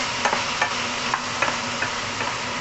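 Beans frying in a pan, a steady hissing sizzle with regular soft stirring taps every half second or so, close by and without talk.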